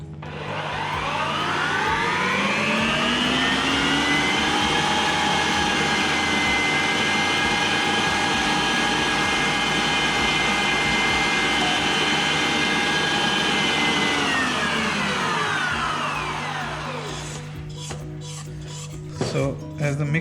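Cake batter made from a flour and sugar pre-mix being beaten by an electric mixer, a loud steady whirring drone held for about sixteen seconds that then winds down, followed by a few clatters.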